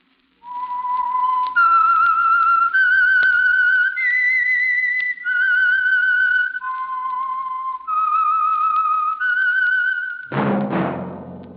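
A lone human whistler carries a slow, clear eerie melody of sustained notes stepping up and down for several seconds as the theme signal of the radio mystery program The Whistler, then a short burst of orchestral music cuts in at the end.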